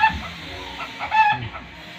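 A rooster clucks in short bursts amid a busy outdoor crowd at a cockfight in the Philippines, with faint background chatter and noise throughout.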